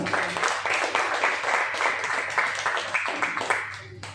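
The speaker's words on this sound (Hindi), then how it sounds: "एक बार जोरदार तालियां बजाएं" A seated crowd at a meeting in Khacharod claps together in a sustained, moderately loud burst of applause over a low electrical hum.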